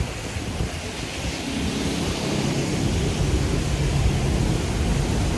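Steady rain falls on a Hanoi street on a morning in Vietnam, an even, dense hiss that holds at constant loudness throughout with no voices.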